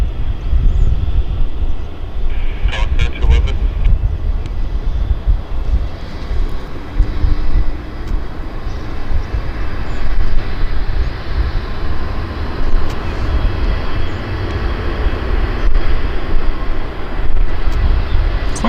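United airliner landing at Vancouver airport, a steady broadband jet roar with rumbling low end that holds loud and constant throughout, with no talk over it.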